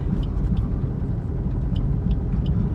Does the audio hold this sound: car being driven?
yes